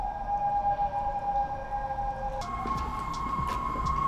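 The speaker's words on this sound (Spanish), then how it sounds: "las sirenas que hay afuera son insoportables." Sirens wail outside, a steady tone that jumps to a higher pitch partway through, sounding muffled and somewhat distant behind a low background rumble.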